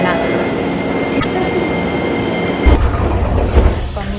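A Tokyo metro train rumbles and hums steadily nearby, with a louder low thump of cars passing near the end as it pulls into the station.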